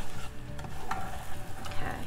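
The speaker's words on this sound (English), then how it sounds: "I'm just going to give that a quick mix before I add my heavy cream" Salt, fresh cinnamon and apple pie spice get a quick stir together for apple pie dumplings, giving close, short scraping and rustling strokes with a few sharper ticks against the bowl.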